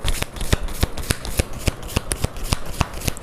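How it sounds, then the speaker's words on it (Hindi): Unicorn tarot cards are shuffled by hand in quick, crisp riffling bursts that repeat about every third of a second, close and clear with no talking. "अब निकालते हैं दूसरे कार्ड्स जो कि है हमारे यूनिकॉर्न कार्ड्स"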